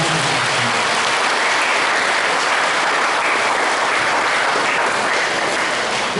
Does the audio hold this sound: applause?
yes